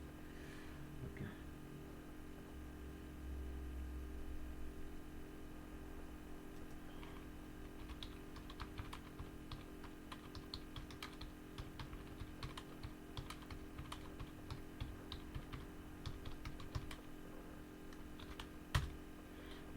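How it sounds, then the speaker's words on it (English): Someone types a message on a computer keyboard while using WhatsApp Business: a long run of rapid, light keystrokes that builds after a quieter start, close but soft over a constant background hum. "I'm gonna type a very good message"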